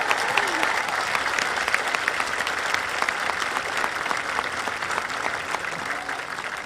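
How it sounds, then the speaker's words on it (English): Steady, dense applause from an outdoor audience at the 2021 Coronado High School graduation ceremony, sustained evenly throughout with a few louder claps standing out. "Let's have another round of applause for the NJROTC Color Guard and for Ina and Ella."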